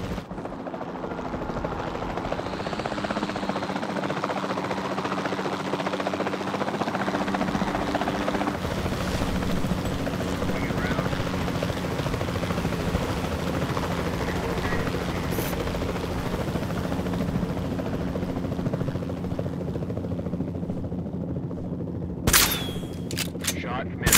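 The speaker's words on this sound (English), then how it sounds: "Then the sensible thing is to take a capture team helicopter." A capture team helicopter in a Jurassic World video game, with steady close rotor thrum and engine drone running throughout, a voice speaking briefly and a sharp gunshot-like crack near the end.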